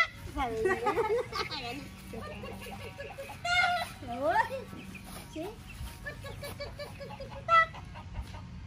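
A hen clucks on a farm while laying eggs, several short, rising clucks and squawks heard at middle distance under a child's and an adult's conversation.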